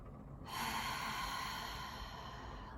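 A single long, breathy open-mouthed exhale during meditation breathing, close and soft, starting abruptly and trailing off with no talk.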